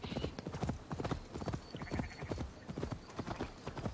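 Horse hooves gallop in Assassin's Creed Valhalla, a fast, steady run of loud clip-clop beats with a brief whinny. The pace stays even throughout and no one speaks over it.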